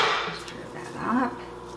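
A spoon works through a pot of lentils and rice, giving a few close scrapes and dull knocks against the pot rim, fairly quiet, with no talking.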